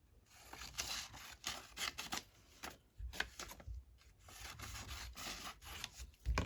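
Paper being trimmed for a Christmas junk journal expandable ephemera holder, heard as close, dry scissor snips and rustling paper in irregular bursts with short pauses between cuts.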